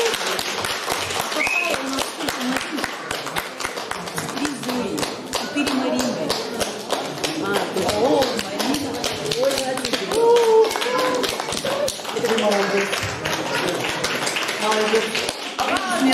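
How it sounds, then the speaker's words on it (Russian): An audience at a Sunday church service applauds during a prize presentation. The clapping is dense and sustained for about sixteen seconds at an even, lively level. "Аплодисменты."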